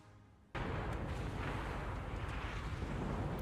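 A torpedo strike in the naval battle game World of Warships lands as a sudden loud boom after a short quiet moment, then a sustained rumbling roar of explosion and churning water continues to the end.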